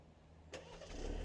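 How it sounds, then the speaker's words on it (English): A 2024 Alfa Romeo Tonale Veloce starts up partway through, a sharp crank burst followed by the engine settling into a steady, rising idle rumble, close and fairly quiet. "let's do a little startup action"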